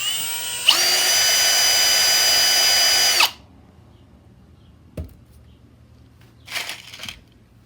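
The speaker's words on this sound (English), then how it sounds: "we're going to put the sides on the pig using the drill and a screwdriver." A power drill whines loudly and steadily for about two and a half seconds while driving a screw into a wooden piggy bank. It then stops, and a few faint knocks and handling noises follow in a quiet room.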